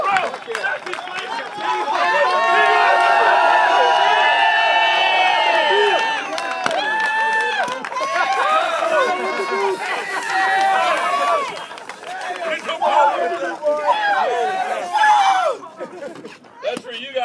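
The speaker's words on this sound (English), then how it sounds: "Everybody cheer them on! Keep cheering them on!" Crowd cheering loudly at a drift competition awards ceremony, sustained whoops and shouts that swell and fade over several seconds with a voice talking over it.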